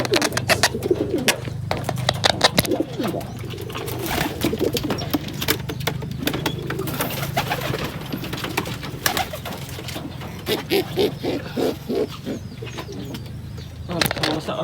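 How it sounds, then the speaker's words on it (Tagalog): Close, repeated cooing from blue bar pigeons, with a few wing flutters and faint murmured voices in the background. "Ang kalapatid oh."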